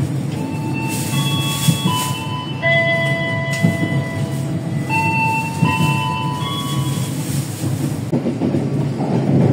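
A train rolls slowly with a steady rumble, wheels squealing in long sustained tones as it brakes into Kutoarjo station in Indonesia, a KA Pasundan economy-class train.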